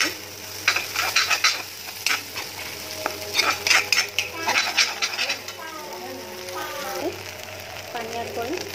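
Shidol, fermented fish, being stirred and fried in a pan for a Manipuri-style chutney, with repeated spoon scrapes and clinks over a steady low sizzle and an underlying hum.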